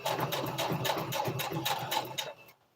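Sewing machine running a back stitch while a twist turban hat is sewn, a fast steady mechanical needle rhythm of repeated clicks for over two seconds, close by, stopping abruptly near the end.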